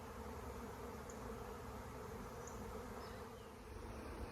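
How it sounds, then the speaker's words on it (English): A honeybee swarm clusters on a branch in Jackson, New Jersey, giving a dense continuous buzzing drone from many bees nearby, steady throughout with no voices. "My bees just swarmed, which means the queen left."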